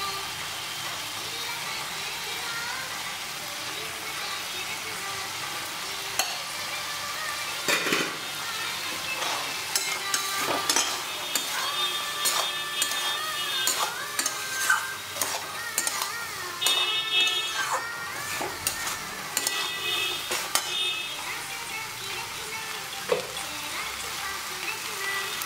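Chickpea curry with kasuri methi sizzles and fries in a pan while a spoon stirs and scrapes through it, giving steady hiss with frequent clinks and scrapes against the metal and no talking.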